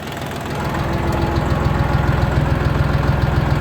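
A tractor diesel engine with a newly replaced injection pump idles at 800 rpm, sounding close with an even, rhythmic knocking chug that settles into a steady loud drone.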